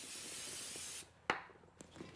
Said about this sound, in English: What we want to do is just take some brake clean, spray it off really well, and we'll wipe it down.